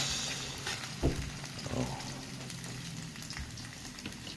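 Garlic and potatoes fry in a pan, a low steady sizzle with a couple of soft stirring thumps, fairly quiet and even throughout.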